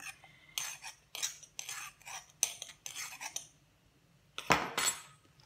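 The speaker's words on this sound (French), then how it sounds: "Et je viens mélanger tout ça." A spoon clinks and scrapes against a bowl while chicken is mixed with paprika and spices for KFC-style fried chicken, in close, irregular bursts of a few strokes with short pauses, and no talking.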